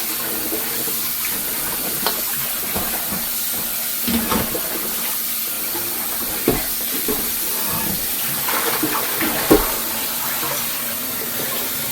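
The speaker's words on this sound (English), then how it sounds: "I like to wash my meat until the water is clear." Tap water runs steadily into a kitchen sink while meat, smoked turkey necks and beef chunks, is rinsed under it. A constant loud hiss is broken by occasional soft knocks and splashes as the pieces are handled.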